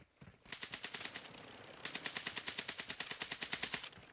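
Video game automatic gunfire rattles off in two rapid bursts of evenly spaced shots, close and sharp, with a brief lull between them and no voices.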